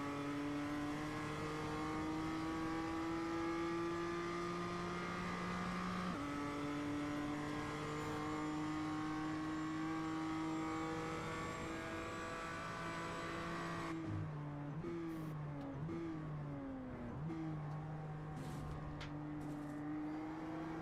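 BMW race car at Virginia International Raceway driving through the final corner, a steady engine drone holding high revs, then a few quick gear changes and rev dips toward the end, loud and continuous with no talk.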